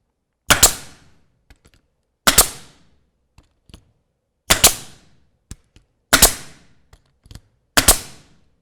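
A pneumatic narrow crown stapler drives staples into wood for theater scenery, giving five loud, sharp cracks at steady intervals of under two seconds, each with a short ringing decay and faint clicks in between.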